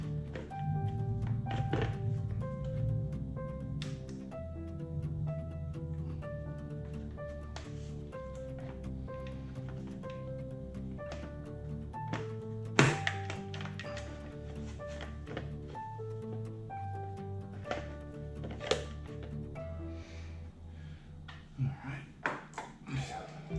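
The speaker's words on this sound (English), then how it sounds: "let's go ahead and get this tank position back in place" An Echo edger's fuel tank is set back into position and secured with two bolts and nuts, producing hollow plastic thunks, knocks and clicks scattered through the clip while someone talks over soft background music.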